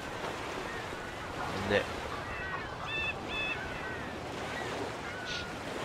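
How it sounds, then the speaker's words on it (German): Steady ocean waves wash and surge in the Mafia video game, a continuous broad wash of surf with wind noise, while a voice speaks briefly over it. "Die Wellen sind richtig geil."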